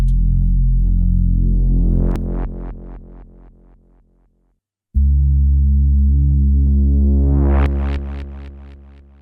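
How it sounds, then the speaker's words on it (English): Heavy bass-laden drum and bass drum hits trigger rapid repeating stereo delay echoes that speed up and decay, stopping in a brief silence before a second burst of echoing hits. "I wanted the end part to have that some sort of delay effect"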